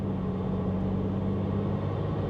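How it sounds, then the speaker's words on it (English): A BMW 340 xDrive tuned to 600 wheel horsepower cruises in comfort mode with a steady low turbo engine drone heard from inside the cabin, constant and moderately loud with a faint hum, no talk. "on these cars where the turbo's mounted, you kind of hear it here a little bit underneath you"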